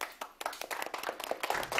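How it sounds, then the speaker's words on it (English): Students in a classroom clap for a classmate, a short burst of scattered hand claps close by, uneven and lively, with a brief pause near the start and no speech over it. "Clap for her."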